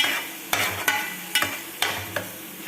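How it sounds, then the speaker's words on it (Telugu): Onions and green chillies fry in oil in a pan for an Andhra-style fish curry with a gentle continuous sizzle, punctuated by several sharp clacks of a spatula stirring against the pan at irregular intervals, close up and without talk. "ఉల్లిపాయలు బాగా మగ్గబెట్టుకుందాం, గోల్డెన్ కలర్ లాగా పచ్చివాసన పోయే వరకు ఫ్రై చేసుకుందాం"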